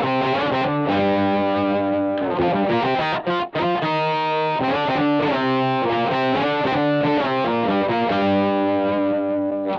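Electric guitar played through a Boss ME-80 multi-effects unit, dialed toward a tone with no gain and heavily boosted treble: sustained, loud, continuous chords and riffs with a chorus-like shimmer, with no talking.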